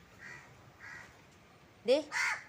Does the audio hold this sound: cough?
no